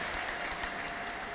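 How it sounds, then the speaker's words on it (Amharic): Applause and ululation from a church congregation praising the Lord, a steady dense crowd clapping with high trilling cries rising over it, brief and fairly distant. "ለጌታ ከፍ ያለ ልልታ ጭብጨባ"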